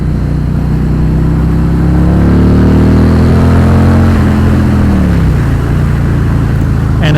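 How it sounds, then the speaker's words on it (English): A 2024 Harley-Davidson Road King on a test ride, its V-twin engine rumbling loud and close, with the pitch climbing under acceleration then dropping as it eases off, over steady wind rush. "sounds like I would imagine a Harley is supposed to sound."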